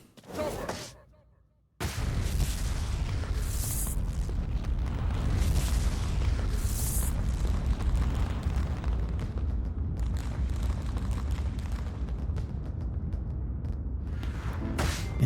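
Explosions boom in Streets of Rage 4: a sharp blast is followed by a dense, continuous roar of rumbling detonations with brief bright bursts scattered through it, loud and sustained until near the end.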